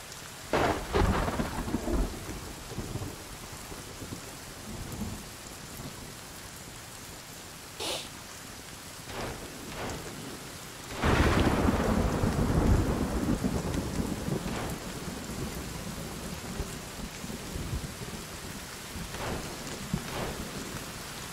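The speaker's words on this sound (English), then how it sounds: "so it did start raining, as you could see" Steady rain and rolling thunder during a storm in the survival video game Sons of the Forest, with a loud thunder crash partway through and the downpour continuing alone throughout.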